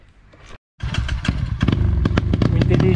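On a dirt trail in Barros Cassal, a motorcycle engine cuts out briefly, then roars back loud and close, popping and crackling with sharp bursts as it revs hard climbing a hill.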